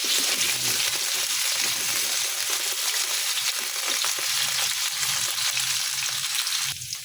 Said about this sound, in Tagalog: Haluin natin para magpantay ang kanyang luto.